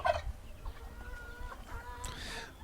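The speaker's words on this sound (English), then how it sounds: "So turkey sound effects, I guess, would be." Turkey gobbling sound effects: a few quick, burbling gobbles and clucks, faint and slightly distant, with brief gaps between calls.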